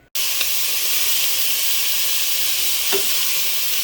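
Bacon and ham fry in a hot pot, giving a loud, steady sizzle and hiss throughout, with a couple of faint stirring knocks.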